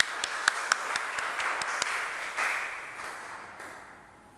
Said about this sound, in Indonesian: Mari kita menyambut hamba Tuhan Bapak Mokja Catur dengan tepuk tangan yang mulia.